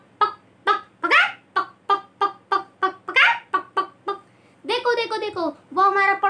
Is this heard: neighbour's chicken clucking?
yes